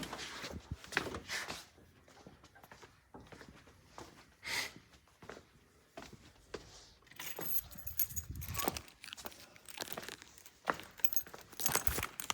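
Keys jangle and clink in repeated bursts close by while someone works on the wiring of a 1959 Ford Fairlane, with scattered handling knocks and rustles between the rattles.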